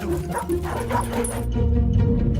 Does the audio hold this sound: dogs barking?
yes